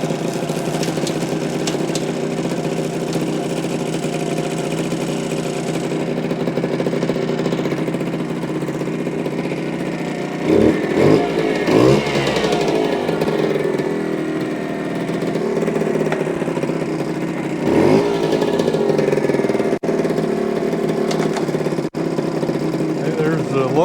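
A 1973 Suzuki TC125 motorcycle engine runs steadily in fourth gear in high range, a continuous mid-pitched drone that swells briefly a couple of times, close by and alone.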